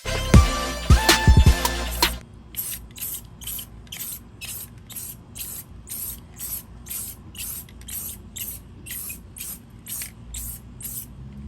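A spray can sprays a coat of paint onto a custom car diffuser for a 2020 Nissan Altima, repeated short close hisses in a regular rhythm following a few louder knocks at the start.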